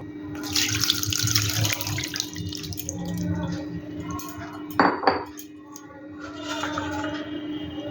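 Fresh chhana (cottage cheese) washed by hand in a bowl of water for nolen gurer sandesh, with close sloshing and splashing, a couple of sharp clinks of a vessel, and a running-water rush throughout.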